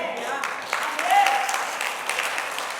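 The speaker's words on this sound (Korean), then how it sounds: "우리 모두 하나님께 영광의 박수 올려드립니다" A church congregation claps together after a sermon, a steady mid-level patter of many hands heard from within the room, with a voice speaking over it.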